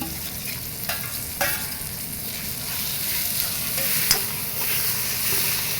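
Mutton liver and fat frying in a pan, a steady close sizzle running throughout, with a few sharp scrapes and clinks of stirring breaking through.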